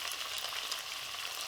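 Bulgogi paste sizzles in a hot pan, a steady bright crackle of frying, close up and without any voices.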